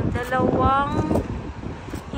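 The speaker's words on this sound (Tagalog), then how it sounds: "Sobrang hangin." Strong wind buffets the microphone outdoors in a steady low roar, with a voice speaking over it for the first half before the gusts carry on alone.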